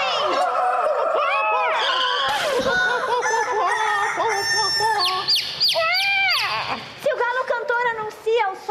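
Voices in a children's musical theatre performance imitate a rooster crowing, with several rising and falling, sustained cock-a-doodle-doo calls, loud and close, overlapping with other singing and talk.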